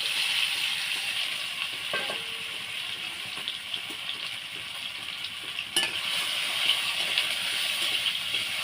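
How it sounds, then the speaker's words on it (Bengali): Home-grown okra fries in mustard oil in a hot wok with a continuous bright sizzle and hiss. Occasional utensil knocks and stirring scrapes sound up close, with no talking. "এবার ঢ্যাঁড়সটা আমি ভেজে নেব"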